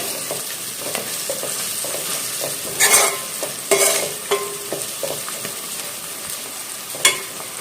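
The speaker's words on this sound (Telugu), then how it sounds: "ఈ అల్లం వెల్లిపాయ పేస్ట్ పచ్చివాసన పోయే వరకు ఫ్రై చేసుకోవాలి." Ginger garlic paste with turmeric frying in a pan, a steady soft sizzle with occasional louder stirring scrapes and clinks from a utensil, close up with no talking.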